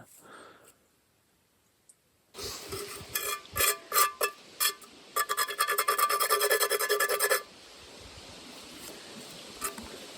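Rough rasping scrubbing of crusty, sticky residue off the bottom of a pot comes in short bursts, then a quicker run of rapid strokes, close up, with a quiet tail afterward, outdoors on a canoe trip.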